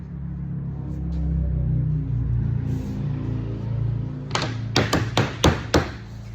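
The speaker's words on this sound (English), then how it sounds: "it always helps to just tap it with a block and a hammer" Contact-adhesive-glued wooden pieces tapped with a hammer on a block: after a low rumbling start, five or six sharp knocks come in an irregular sequence near the end, close and fairly loud, with no talking.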